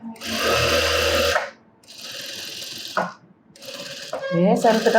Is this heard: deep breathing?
no